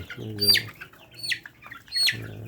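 Fayoumi chickens about forty days old cluck in three short, close bursts, each a throaty call with a sharp, higher edge, separated by brief quiet gaps.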